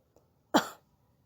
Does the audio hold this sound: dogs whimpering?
no